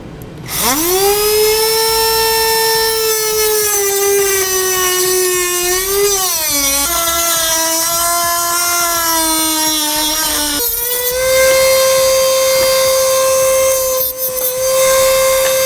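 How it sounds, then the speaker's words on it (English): A rotary tool whines loud and close as it trims a base plate on a 2015 Ford Fiesta. The sustained high tone dips in pitch under load, then steadies, with short breaks between passes. "So I'm going to use our rotary tool here to trim this."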